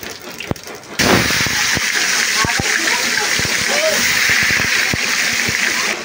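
Dried red chillies, bay leaves and pulses crackle in oil in a large cooking pot, a loud, steady sizzle that bursts up after a second, dotted with sharp pops and spatters.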